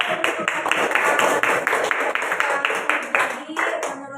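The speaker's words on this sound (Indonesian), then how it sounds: "Iya, tepuk tangan dulu." A small classroom group clapping during a teacher-training presentation, a brisk patter of several pairs of hands, close and fairly loud, with talk mixed underneath.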